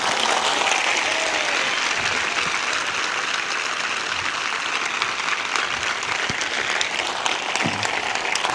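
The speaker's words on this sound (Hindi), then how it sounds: "आप प्रभु के लिए इससे अच्छी ताली बजा सकते हैं" A worshipping congregation claps for the Lord in a church service, sustained loud applause from a large crowd with scattered sharper individual claps, unbroken throughout.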